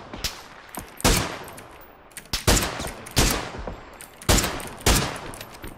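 Bursts of automatic gunfire in PUBG, several loud rapid volleys in a rhythmic pattern with short pauses between, sharp and close with no talking.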